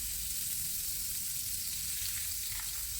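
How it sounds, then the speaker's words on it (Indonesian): Chicken fries in melted margarine in a pan, giving a steady, fairly quiet hiss and crackle of sizzling fat throughout, with no talk. "Kita masukkan untuk menggoreng ayam."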